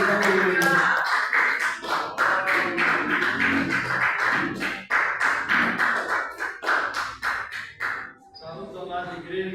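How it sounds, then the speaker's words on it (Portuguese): A church congregation claps hands in rhythmic, evenly spaced beats during joyful worship, the sharp claps close and distinct, with singing voices underneath between the beats. "com as palmas bem alegres para Cristo"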